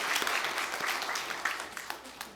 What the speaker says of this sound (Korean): 크게 하나님께 영광의 박수를 돌리겠습니다